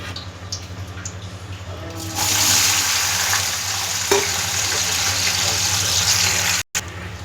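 Onions drop into hot oil in a pan with a bay leaf, and a loud, steady sizzle starts partway through and continues at an even level, with a soft clink of a spoon.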